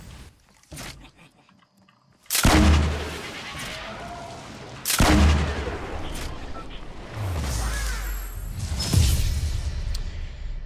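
Gunfire in a Fortnite match, several loud booming shots with whooshing tails spread across the span, while a player talks over the action.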